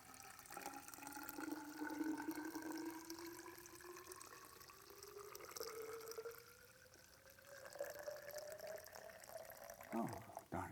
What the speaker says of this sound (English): now pour the water in the cylinder.